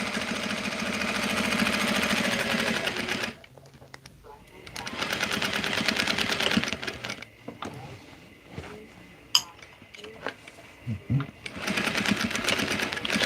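A sewing machine stitches a baby blanket, running in steady whirring bursts with short pauses between them, while a person talks over it.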